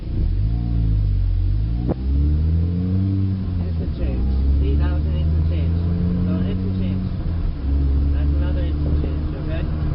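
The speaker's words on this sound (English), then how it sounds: "what you want to hear is an instant change in the transmission" A manual-transmission car engine drones steadily, its pitch dropping and then climbing again as the gear shifts, with a brief sharp click partway through.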